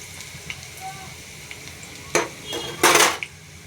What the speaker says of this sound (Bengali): এখন ডালটা দিয়ে দেবো।